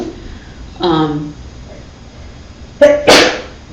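A person sneezes in a sharp, loud burst near the end, preceded by a short voiced sound a few seconds earlier, in a quiet room.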